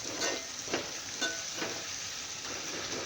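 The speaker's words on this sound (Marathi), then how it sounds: "तो आता पूर्ण कांद्यामध्ये असं टमॅटो मिक्स खालीवर करून घ्यायचं आहे." Chopped tomato and onion frying over a low flame, a steady close sizzle punctuated by a few rhythmic scraping stirs of the spoon through the pan.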